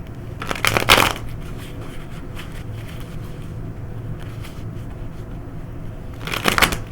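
Cards are riffle-shuffled twice, a quick fluttering burst near the start and another near the end, with quiet room noise between.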